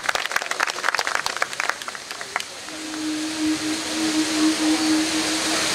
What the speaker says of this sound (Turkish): Kendilerini buraya alıyoruz alkışlarla.